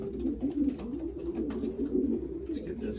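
Pigeons at a banding session, a grizzle hen and a blue bar cock among them, coo steadily in low, rolling, overlapping calls close by, with faint handling noise beneath.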